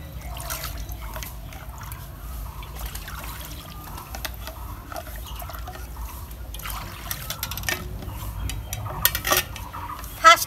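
Water poured into a cooking pot to heat for boiling pasta in a home kitchen, a continuous close trickle and splash of filling liquid at moderate loudness with no talk.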